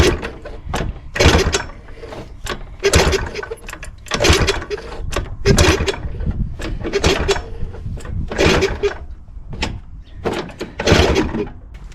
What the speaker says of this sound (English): I want to kick this over a few times and try and get some oil flowing along this line